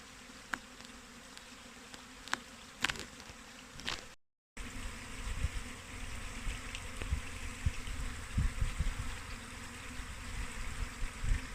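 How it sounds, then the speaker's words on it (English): A honey bee swarm buzzing around a nuc box as the bees make their way inside, a steady droning hum of many insects close by, briefly cutting out before returning fuller and louder. "So now we just wait until as many of these lovely bees here make their way in there"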